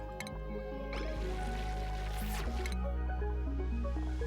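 Polluted water trickles into a small area in the Bionic Lab colony game, giving wet drips, squishy gurgles and a light stream over steady tonal background music.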